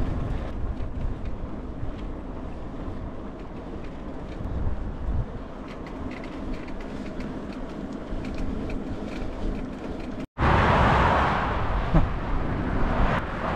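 Traffic on the A12 road passes while a cyclist crosses it, heard as a steady, moderately loud road roar with a sudden burst of close, louder wind-like rushing near the end.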